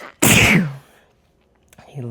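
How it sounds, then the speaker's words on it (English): One sharp, close sneeze bursts out with a breathy rush and fades, followed by a quiet pause and the start of a voice speaking at the end. "Sneezing is a way of clearing energy, but I hope I'm done now."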